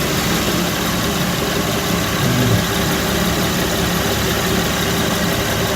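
A 2007 Honda Pilot engine idles steadily, a constant close rumbling hum with broadband hiss and little variation, no voices over it.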